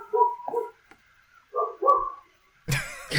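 A dog, probably reacting to a cat outside, gives a few muffled, distant barks and yips in separate bursts, followed by a louder noisy thump at the end.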